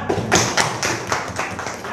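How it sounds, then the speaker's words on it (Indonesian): A class in a teacher-training session claps together in a quick, rhythmic pattern, with about seven loud, even bursts in two seconds and no talking. "Tepuk tangan."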